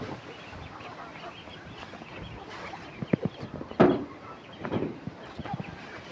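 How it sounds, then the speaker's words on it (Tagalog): Several backyard ducks quack and honk close by, with scattered louder calls over a steady murmur of birds and outdoor background noise as a typhoon approaches. "Mga pato natin nandito."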